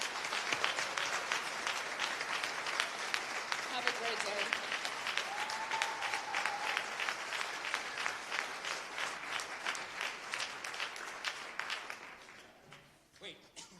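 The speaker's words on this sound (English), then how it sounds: "just a really wonderful, loud applause to our students for their courage" Loud, sustained applause from a large audience honoring students at a Martin Luther King Jr. breakfast, dense clapping that rolls on for about twelve seconds before tapering off, with a brief spoken farewell near the end.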